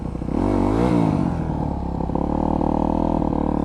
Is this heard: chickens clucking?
no